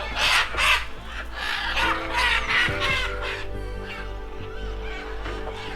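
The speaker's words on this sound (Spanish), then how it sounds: "Los gritos de las guaras y el chillido de las amazonas se vuelve una cacofonía que despierta a toda la comunidad." Flock of scarlet macaws and yellow-naped amazon parrots at a wildlife sanctuary, harsh raucous screams and squawks overlapping in a noisy chorus, fairly close, over a steady low background hum.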